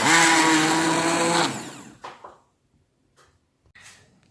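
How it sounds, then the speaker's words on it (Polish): A blender whirs loudly through beetroot cream soup with lemon for about a second and a half, then cuts out. A few faint clicks and knocks follow. "mamy blender i zaczynamy blendować wszystko"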